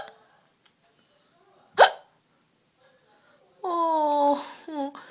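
A single sharp, abrupt hiccup sounds close by amid near silence, followed a couple of seconds later by drawn-out voiced whining cries.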